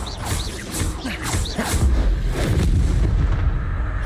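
In Hogwarts Legacy, Confringo explosive spell blasts go off in quick succession, booming, crackling bursts layered with whooshing magic effects, loud and close with a dense, chaotic game soundscape.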